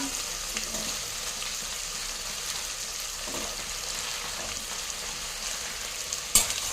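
Potatoes sautéing in a pan with long-sliced onion, steady frying sizzle throughout with occasional faint stirring scrapes and a sharp utensil knock near the end.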